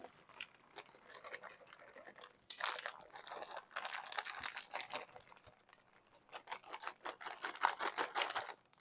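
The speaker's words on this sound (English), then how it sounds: "Now we're gonna add a half a bag of chocolate chips to the top." Half a bag of chocolate chips poured from a cut bag onto a pretzel Christmas crack tray, giving bursts of crinkling plastic and pattering chips that come and go, fairly close and moderately loud.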